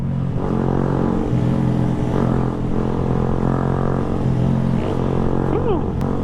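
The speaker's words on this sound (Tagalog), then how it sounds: "Nagtanggal din ako ng silencer ng motor. Kaya medyo maingay tayo ngayon." Loud, continuous Yamaha Sniper 150 motorcycle engine roar with its silencer removed, a raw, unmuffled rumble and harmonic drone, rising slightly near the end, no pauses throughout.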